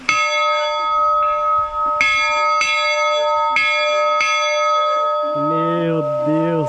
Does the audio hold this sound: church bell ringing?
yes